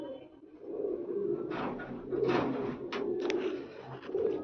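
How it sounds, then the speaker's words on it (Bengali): Pet pigeons, including fancy Andhra breeds, coo in soft low repeated rounds close by, their murmuring calls overlapping steadily with a few brief higher chirps and rustles. "এই দীপদার বাড়ির থেকে নেওয়া এই পায়রা।"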